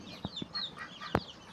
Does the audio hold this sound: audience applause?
no